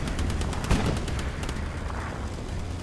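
In a competitive Hell Let Loose match on the El Alamein desert map, a Churchill tank and a Panzer IV trade cannon fire. One sharp, heavy boom stands out over a constant crackle of distant gunfire.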